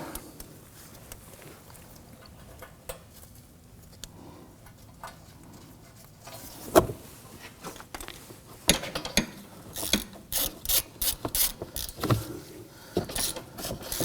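A bolt is fastened on a 2015-2024 Nissan Murano 3.5L V6 heat shield during rear engine torque strut mount work. Quiet shop ambience and faint handling give way to a close, irregular run of sharp metallic clicks and taps.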